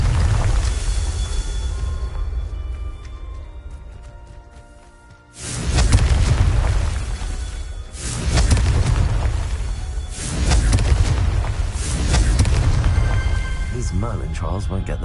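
The Confringo spell in Hogwarts Legacy sets off loud, deep explosive booms, with several heavy blasts rolling out one after another every few seconds amid game sound effects.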